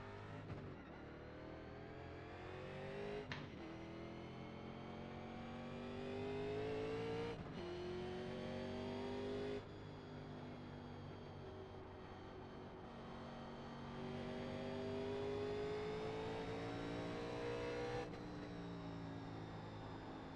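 A 1987 NASCAR stock car engine roars continuously in iRacing at Bristol, holding a steady high-revving drone with repeated pitch sweeps as it lifts and reaccelerates through the banked turns, loud and close with no talking.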